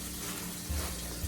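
Beet tops being swirled by hand in a basin of salted water, a brief close sloshing and rushing water sound with soft low splashes and no speech.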